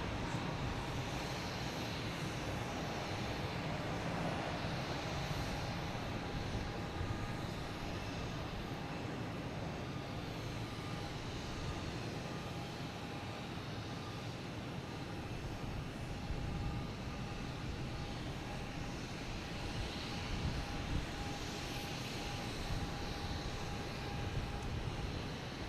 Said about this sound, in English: I got Alaskan Airlines backing out of here